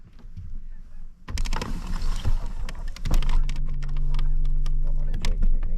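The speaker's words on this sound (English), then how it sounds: "Sorry for the motor noises." Fishing boat motor on the Columbia River, a low steady hum that kicks in and runs continuously beneath splashing water and wind noise, fairly loud and close.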